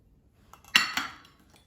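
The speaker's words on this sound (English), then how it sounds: "So I'll mix everything until combined" While boxed brownie mix batter is stirred in a bowl, a utensil strikes the bowl twice in quick succession, giving two bright clinks close by against an otherwise quiet kitchen.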